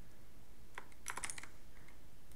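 Quick burst of keystrokes on a computer keyboard, a handful of soft, close clicks clustered in under a second against a quiet background.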